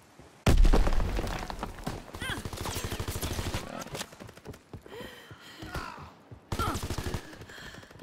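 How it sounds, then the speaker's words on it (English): Grenade explosions and gunfire in Call of Duty WWII, a sharp loud blast at the start followed by rattling shots and debris, then another heavy burst near the end, with some voice underneath. "Throwing nades at me."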